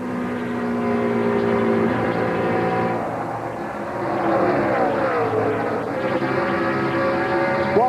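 NASCAR stock cars at the 2001 MBNA Cal Ripken Jr. 400 roar at speed, with engine pitch sweeping as cars pass close by and several engines droning together in a loud, sustained stretch.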